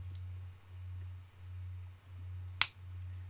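Wire cutters snipping garden wire while building a garden gate, a single sharp close snip standing out against a low steady hum, otherwise quiet.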